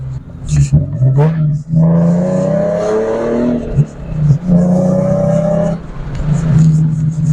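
A heavily modified car's exhaust revs repeatedly nearby, its low rumble climbing and falling in several throttle blips, with someone talking over parts of it.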